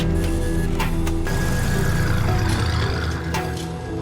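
A loud car engine during a chase in the TV show Better Call Saul, a steady roaring drone with whining tones and a couple of brief bursts.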